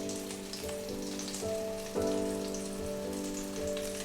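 Carrot and cucumber rolls fry in a pan with a gentle, patter-like sizzle and occasional pops, partly covered by steady background music, with no voices.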